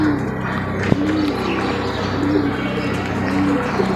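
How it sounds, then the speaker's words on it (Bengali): Racing pigeons cooing after release at a pigeon race: soft, repeated low coos at a steady rhythm over a constant outdoor background with an occasional sharp knock. "25 কিলো মতো ছাড়ছে কবুতর আজকে।"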